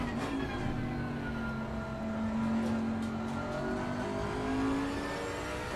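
A race car engine roars in the racing game Assetto Corsa Competizione, a steady, loud drone with rising and falling revs and gear changes, heard from the driver's seat with no talk over it.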